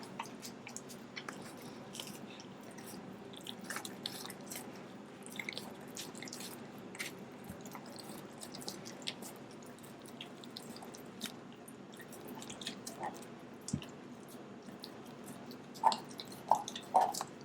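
A German Shepherd puppy gnaws a raw bone up close, giving wet, squishy chewing and small crunching bites in an irregular rhythm, with a few sharper clicks of teeth toward the end.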